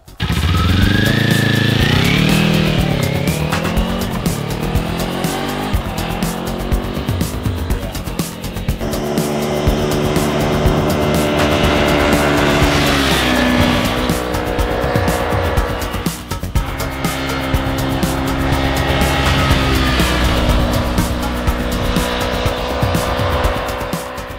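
A 2019 Kawasaki Z400 motorcycle rides a winding country road, its engine loud and close as it revs up and down through the gears in continuous rising and falling pulls, with no talking.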